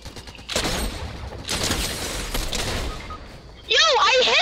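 Burst-fire gunfire in a Fortnite squads match comes in two broad rapid volleys, followed by a loud, bright, warbling electronic game effect at the end.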